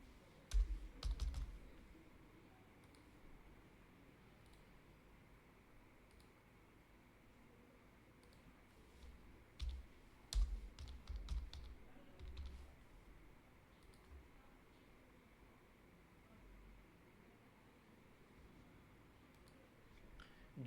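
Computer keyboard typing while filling in an online form, scattered bursts of quick key clicks separated by quiet pauses, close and soft over a faint hiss.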